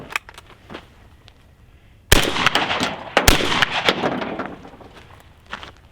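A shotgun fires a reloaded shell in one sharp, loud blast that echoes and rolls on for a couple of seconds, with faint handling clicks before it.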